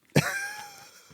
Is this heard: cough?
yes